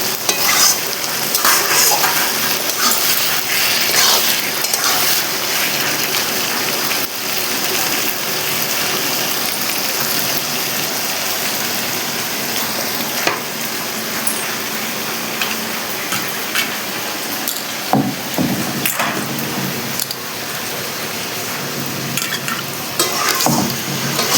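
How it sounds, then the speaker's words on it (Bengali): Potatoes and home-ground spices being fried and stirred for Bengali egg curry, a continuous close sizzle with constant scraping and clinking of a metal spatula against the pan, steady and fairly loud throughout, no one speaking. "আমার মশলা থেকে আর আলু থেকে তেলটা ছেড়ে দিয়েছি, কষানোটা হয়ে গেছে।"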